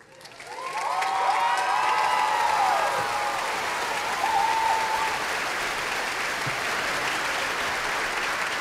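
Sustained applause from a high school graduation audience fills the space, steady and dense with a few cheers rising above it, the clapping continuing at full strength throughout.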